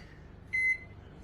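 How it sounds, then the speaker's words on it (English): A microwave oven hums quietly in a home kitchen, then gives one short, clear electronic beep before the low running hum carries on. "now I'm going to operate in a microwave"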